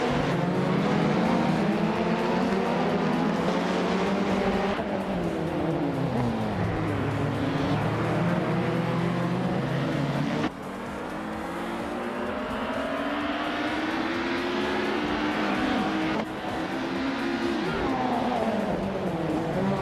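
Race cars roar around the Tsukuba circuit in a racing video game, led by a 1999 Opel Vectra. Engines drone loud and steady, rising and falling through repeated gear shifts, with no talk over them.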